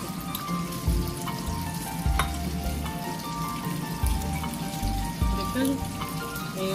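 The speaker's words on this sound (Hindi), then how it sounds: "छोटी छोटी मर्चां ग्रीन करके भून के डाल दो" Small green chillies fry in a pan of chicken kofta gravy, a steady close sizzle running throughout with occasional stirring clinks and scrapes.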